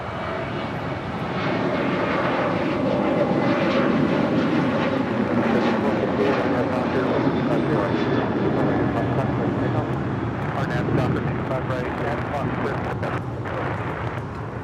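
An American Airlines Boeing 737-800 departs LAX on the south side bound for Indianapolis, its broad jet roar building after the first second and holding steady and loud, with radio and voices talking beneath.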